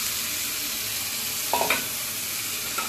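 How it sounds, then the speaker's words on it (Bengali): Tarka dal is tipped into a frying pan of egg tarka and stirred, producing a loud steady sizzle with a few scraping stirs of a spoon over the continuous frying hiss. "এবার আমি তরকার ডালটা পুরো দিয়ে দিলাম এর মধ্যে।"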